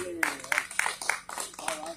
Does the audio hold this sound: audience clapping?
yes